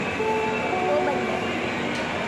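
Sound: railway station ambience with train

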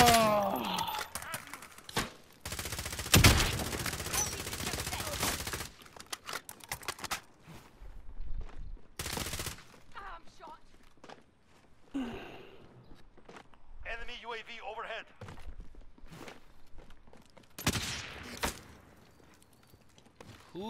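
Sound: gunshots in video game Call of Duty: Modern Warfare

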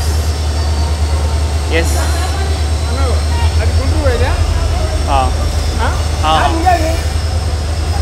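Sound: pairing train with twin EMD locomotives arriving

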